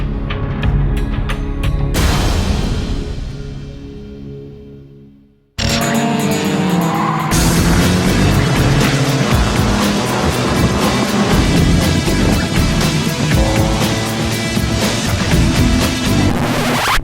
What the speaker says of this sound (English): That's what cars racing at Buttonwillow looks like.